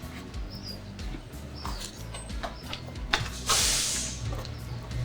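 Prosecco bottles being opened while preparing a pumpkin spice punch, with handling clicks and rustles, then a sharp hissing burst of escaping gas about midway that tapers off, close to the mic.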